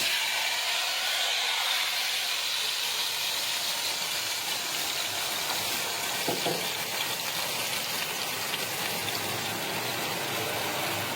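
Hot tadka tempering sizzles and hisses steadily as it is poured into kadhi for kadhi pakora, a loud, continuous broadband frying crackle with no talking.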